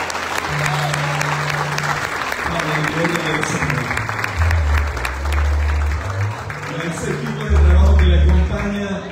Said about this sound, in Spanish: Denle un fuerte aplauso a Elizabeth, que lo hizo muy bien.